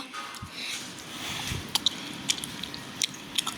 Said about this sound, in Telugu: మా చెల్లి మాత్రం అక్కడ ప్లేట్ తీసుకొచ్చి తింటుంది ఫ్రెండ్స్ కింద.